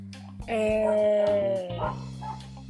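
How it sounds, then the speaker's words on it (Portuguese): Several dogs barking and howling together nearby, with sustained tonal howls and yips filling most of the stretch, loud and continuous over a low steady background hum. "Tem uma cachorrada aqui"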